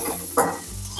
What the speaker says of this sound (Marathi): यामध्येच आपण जिरं आणि धनी सुद्धा भाजून घेऊया।